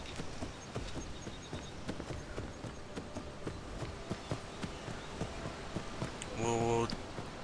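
Horse hooves clip-clop steadily in Skyrim, an evenly paced gait heard at moderate distance under game ambience, with a brief louder burst near the end.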